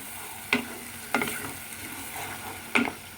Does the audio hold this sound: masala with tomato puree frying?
yes